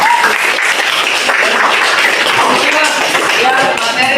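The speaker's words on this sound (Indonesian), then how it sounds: "Tepuk tangan dong buat sahabat-sahabat semuanya." Classroom audience clapping for classmates after a lesson, a dense, steady, loud round of applause filling the whole stretch.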